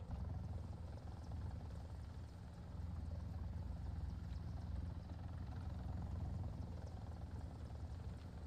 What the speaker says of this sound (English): Oh, it's a KA-50?